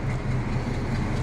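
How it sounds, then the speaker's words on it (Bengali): A railway locomotive engine at a Kolkata station rumbles steadily in the distance, a low continuous drone with no speech over it. "দূরে একটা ইঞ্জিন যাচ্ছে"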